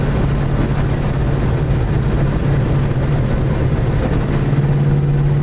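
A 1999-2004 Mustang 2V with long tube headers and SLP Loudmouth mufflers rumbles steadily, a deep, even exhaust drone holding at a constant level throughout, heard without talk.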